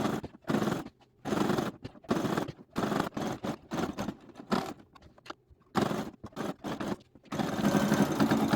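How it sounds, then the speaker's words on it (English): A sewing machine stitching fabric for a guinea pig pee pad, running in short whirring bursts that start and stop repeatedly with brief silent gaps, close and fairly quiet. "I started sewing to where I'm gonna stop sewing."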